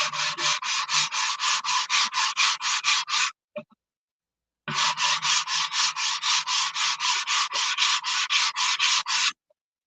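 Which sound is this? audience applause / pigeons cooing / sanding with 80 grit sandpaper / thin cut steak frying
sanding with 80 grit sandpaper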